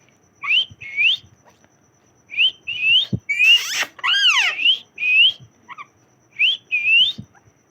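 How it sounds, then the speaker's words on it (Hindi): A pet parrot whistles in short, close, loud bursts: pairs of rising tonal notes repeated in several clusters, with one longer sweeping whistle in the middle and brief quiet gaps between the phrases. "ओ सीटी बजा दी।"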